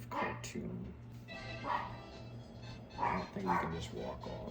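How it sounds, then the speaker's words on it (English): Obi, a pet dog, barks several times in short bursts in the background, fairly faint, while people talk over it. "Yeah, again, sorry about the dog."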